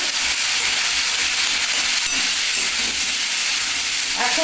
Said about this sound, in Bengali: এবার টমেটোটা আমি তেলের মধ্যে ফেলে দিচ্ছি